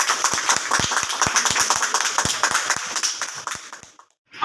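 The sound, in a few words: audience applause at church anniversary award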